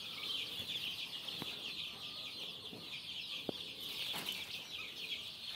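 Eighteen-day-old tiger breed chicks make a faint, continuous chorus of high peeping and cheeping, with a few soft knocks among them.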